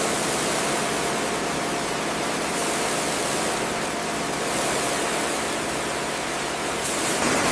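Stiff bristle brush scrubbing heavy degreaser foam over the paint of an abandoned 1966 Dodge Dart 270, a steady close hiss of bristles that holds on without a break.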